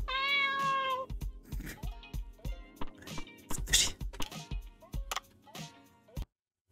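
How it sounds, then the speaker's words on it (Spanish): A cat meows in the diving game Dave the Diver, one clear harmonic meow at the start, followed by game music and other sounds. "El gato."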